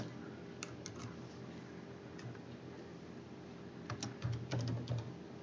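Keys on a computer keyboard are tapped during HTML coding, in short scattered bursts of quiet clicks with a denser flurry near the end, close and fairly soft.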